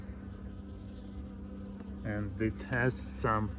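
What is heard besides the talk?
honey bees buzzing in horizontal Langstroth hive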